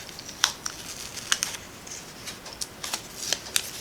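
Die-cut paper being peeled away from a cutting die, a quiet series of crisp crackling ticks and small tearing snaps at irregular intervals.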